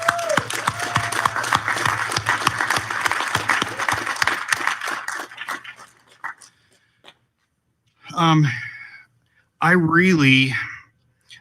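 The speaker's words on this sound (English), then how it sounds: "let's give Carol a round of applause" Audience applause at an outdoor ribbon-cutting for the Riverwalk Village, a dense burst of clapping that fades out over several seconds, after which a speaker begins talking.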